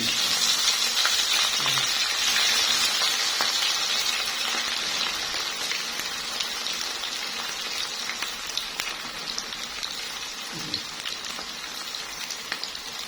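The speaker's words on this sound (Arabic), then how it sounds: "دلوقتي هحط البصل الباقي عندي" Onions fry in a pot while koshari is cooked, making a constant crackling sizzle close by with scattered pops and light stirring, with no voices.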